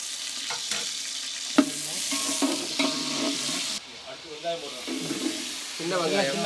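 Small onions (shallots) fry in ghee for ghee rice, a continuous sizzle and hiss with stirring scrapes, while people talk over the cooking.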